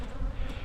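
Bees buzz around an open hive during a honey harvest on a homestead in extreme heat, a dense, steady close drone filling the short moment with no voices.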